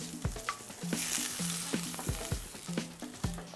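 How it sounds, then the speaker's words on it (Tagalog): Onions sauté in cooking oil in a pan, giving a close, constant sizzle broken by regular clinks and scrapes of a stirring utensil, with no voices. "At igigisa na natin yung ating sibuyas."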